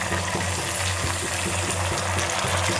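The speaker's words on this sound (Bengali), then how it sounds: "এবার সামান্য একটু জল দেবো" Water added to raw mango chutney frying in a pan with panch phoron, dry chilli and sugar, giving a steady close sizzle and bubbling hiss that runs evenly throughout with faint rhythmic stirring.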